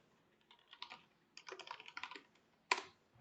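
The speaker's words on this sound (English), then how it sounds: "if I am typing something here" Computer keyboard typing during a spreadsheet coding session, heard as quick bursts of close key clicks separated by short pauses and ending with one louder keystroke, with no talking.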